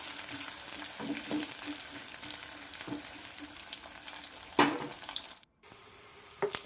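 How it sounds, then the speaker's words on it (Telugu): Chopped onions fry in a pan for a lady's finger curry, a steady close sizzle with occasional spatula scrapes and a brief dropout near the end. "ముందుగానే కట్ చేసుకున్న ఉల్లిపాయలు వేసుకోవాలి వేసుకొని వీటిని కూడా ఫ్రై చేసుకోవాలి"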